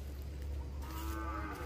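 A sacrificial cow bellows a low, drawn-out moo outdoors as cattle are rounded up after Eid prayers, fairly faint over steady background noise and ending with a sudden sharp sound.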